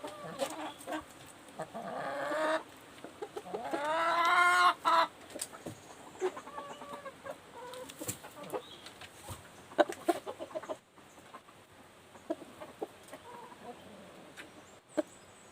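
Several chickens cluck and squawk nearby in a steady, irregular chatter, with one louder burst of calls early on.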